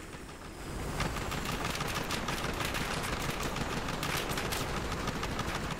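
Sustained automatic gunfire in the shooter game Battlefield Hardline, a dense, continuous roar of rapid shots that kicks in after a brief lead-in and holds steady and loud throughout.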